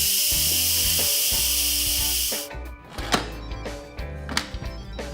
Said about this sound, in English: here's what I need to do to release the steam. I need to turn it from sealing to venting.